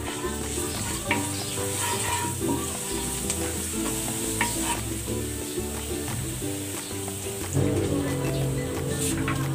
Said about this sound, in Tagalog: Igisa na natin tong bawang.